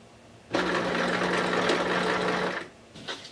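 A sewing machine runs steadily for about two seconds, stitching through three layers of skirt fabric, then stops. A faint mechanical click or two follows.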